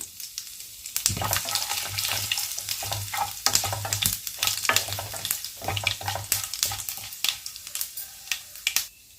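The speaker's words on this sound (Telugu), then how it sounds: "సన్నని ఆవాలు, ఒక ఎండి మిరపకాయ ఇలా తుంచుకొని వేసుకున్నాము." Mustard seeds and a broken dried red chili sizzle and crackle in hot oil for a dal tempering, with irregular sharp pops and spits over a steady frying hiss, close and fairly loud.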